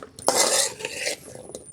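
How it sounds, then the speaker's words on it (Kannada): Potatoes for potato masala gravy stirred and fried in oil in a pan, with close metallic scraping and clinks of a utensil against the pan over a light sizzle, no talking. "ಇದನ್ನು ಚೆನ್ನಾಗಿ ಫ್ರೈ ಮಾಡ್ಕೊಳ್ಳೋಣ."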